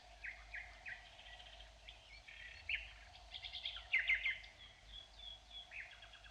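Green woodpeckers and other woodpeckers give sharp, repeated calls in a quiet forest. The calls come in short bursts at varying distances, some faint and some closer, over a low background hum.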